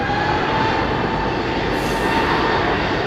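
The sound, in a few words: airplane at London Heathrow Airport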